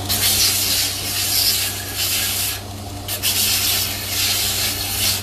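A belt sander with a 40 grit zirconia belt grinding an Ipe wood spear handle, a loud, close, continuous abrasive hiss and rasp over a steady motor hum, easing briefly as the pressure lifts.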